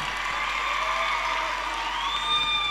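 An audience applauds for actress Jui Gadkari, steady close clapping with some cheering and a whistle-like tone near the end.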